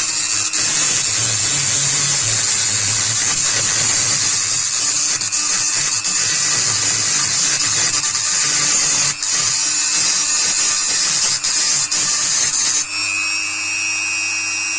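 A Goxawee Dremel rotary multitool sands steadily with a continuous high whine and gritty rasp, loud and close, its pitch shifting slightly as the load changes near the end.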